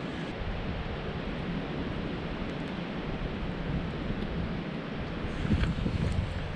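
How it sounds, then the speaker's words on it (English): Wind rushes continuously, buffeting the microphone with a low rumbling roar that swells slightly toward the end. "God, it's windy."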